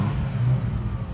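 A 1988 Ferrari 328 GTS on its standard exhaust, its engine giving a steady, low, close rumble for about a second with no other sounds.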